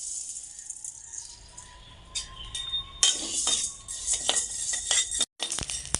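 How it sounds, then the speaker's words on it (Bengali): Dry rice grains are stirred and scraped around a hot pan while being roasted for sweets, giving intermittent rattling and metallic clinks of a spoon against the vessel, close and moderately quiet. "চাল বন্ধুরা এভাবে ঘন ঘন নেড়ে রাখতে হবে, না হলে বন্ধুরা নিচে পুড়ে যাওয়ার সম্ভাবনা থাকে।"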